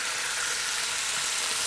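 Green chili paste fries in a pan, producing a dense, continuous hiss of sizzling that stays even and fairly loud throughout.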